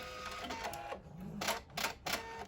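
A sewing machine back stitches on a fabric face mask in short, faint mechanical bursts, a few quick whirring runs separated by brief pauses.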